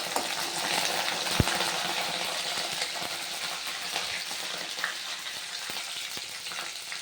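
Shallots and curry leaves frying in oil for a drumstick curry give a continuous crackling sizzle, with occasional sharp pops and utensil taps throughout.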